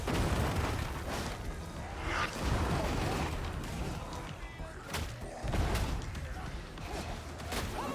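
A grenade blast in a video game, a broadband boom around the two-second mark amid dense ongoing game noise and other bursts, with speech under the action.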